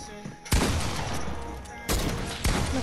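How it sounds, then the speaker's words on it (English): Three loud shotgun blasts in the video game Fortnite, each a sharp broadband crack with a short decaying tail, spaced unevenly over a few seconds and standing out above background game noise. "Bro, I hit you with my shotgun."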